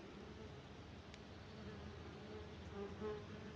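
German wasps buzz at their ground nest in soil, a faint steady insect hum close by, with no talk and a slight swell near the end.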